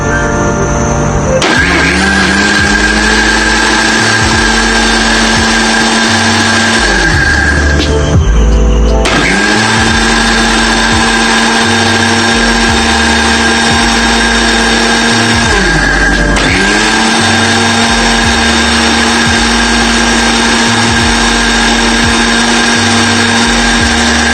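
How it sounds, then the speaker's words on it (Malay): A loud electric blender whirs continuously making watermelon juice, its motor pitch dipping and recovering twice as the contents churn, running steadily without pause. "blender bahan-bahan tadi sehingga menjadi jus tembikai"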